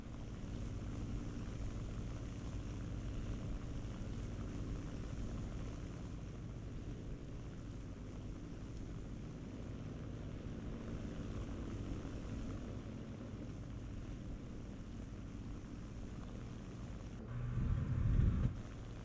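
Propeller aircraft engine in a flight combat video game, a heavy plane with a steady, droning hum throughout, close and even, with a brief louder swell near the end.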